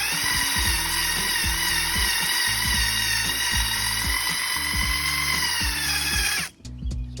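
A power sander dry-sands a Honda CR-V headlight, its loud high whine running steadily while repeated low thumps and rumbles sound beneath, then cutting off abruptly near the end.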